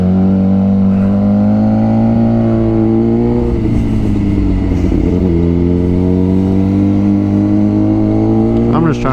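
Loud, steady engine drone of a Suzuki GSXR 600 sportbike ridden along twisty roads, with strong harmonic hum, a brief dip and swell in pitch midway, wind roar over the top, and no talking.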